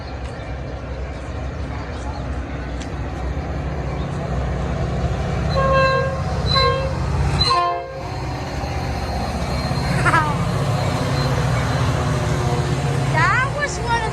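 Metra commuter train passing close by, its horn sounding in several repeated toots over the steady low rumble of wheels and engine, with a brief whoosh midway as the cars go by.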